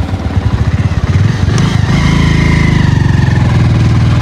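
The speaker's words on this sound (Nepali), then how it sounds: "मेरो बाइकले तान्दैन यार" A motorcycle engine runs loud and close, a fast, even throbbing idle that briefly revs before settling back into a steady chug.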